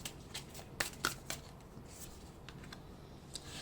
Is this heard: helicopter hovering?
no